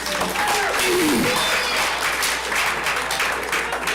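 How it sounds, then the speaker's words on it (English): A crowd at a fall varsity athletics awards ceremony gives a sustained, dense round of applause. It stays loud and even for several seconds, with a brief voice or cheer rising near the start. "give everybody one more round of applause"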